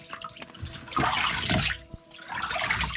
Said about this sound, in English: Somewhere in this kayak, the water's getting in.